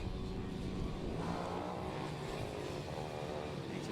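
Mini bikes race around a track, several small engines buzzing and revving together at a moderate distance, with a continuous layered whine that rises and falls through a corner.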